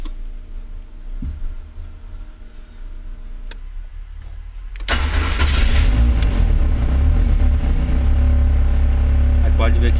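A car engine starts abruptly partway through, then runs at a loud, steady idle close by after a quieter stretch with faint ticking.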